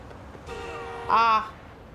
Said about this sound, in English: Just honk my way over.